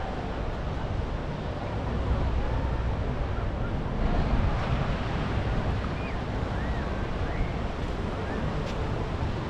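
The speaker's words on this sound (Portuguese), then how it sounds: "Essa é a Praia da Barra." Steady ocean surf rolls at Barra da Tijuca beach in Rio de Janeiro, a continuous broad wash of breaking waves mixed with wind noise on the microphone, with no talk over it.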